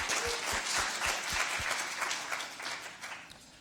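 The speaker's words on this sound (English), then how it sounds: "So let's give our fourth panel a round of applause, please" A round of applause for a panel at a healthy-aging event, moderately quiet, scattered clapping from an audience with a few sharper claps up close, thinning out toward the end.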